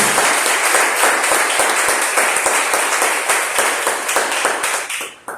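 A church congregation applauds during a service, with loud, dense clapping filling the room and then fading quickly at the very end.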